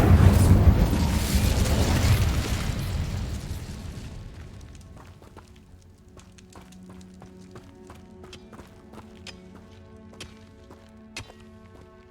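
A fiery spell blast erupts loud and close in Hogwarts Legacy combat, a roaring burst for the first few seconds that fades into a quieter stretch of light clattering and ticking sounds.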